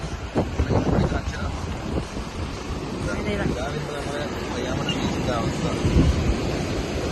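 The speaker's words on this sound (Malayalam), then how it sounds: "കടലൊക്കെ ഇങ്ങ് റോഡിന്റെ സൈഡിൽ എത്തി കേട്ടാ." Sea waves surge up to the side of a road, a continuous rough wash of surf with wind buffeting the microphone while people talk over it.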